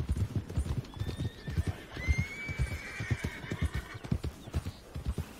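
Hooves clip-clop in a fast, steady rhythm while a faint, thin whinny drifts above the trotting, a horse in Red Dead Redemption 2.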